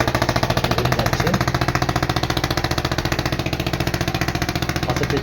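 Steady diesel thudding of a ferry boat's engine as it pulls away from the ghat near Mayapur, a loud, close, rapid pulsing chug that holds an even rhythm from start to finish.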